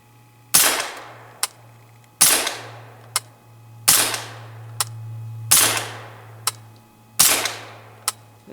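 Five suppressed gunshots from subsonic ammunition, each a sharp muffled crack followed by a short metallic clank, evenly spaced at an outdoor range with a steady low hum underneath.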